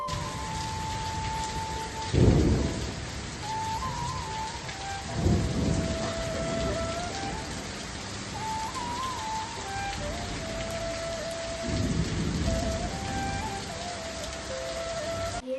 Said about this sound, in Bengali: এখনো পর্যন্ত বৃষ্টি কন্টিনিউ হয়েই যাচ্ছে